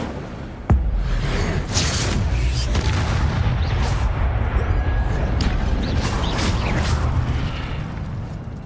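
The Incendio fire spell is cast in Hogwarts Legacy, opening with a sudden loud burst that swells into a sustained, roaring whoosh of flame lasting several seconds.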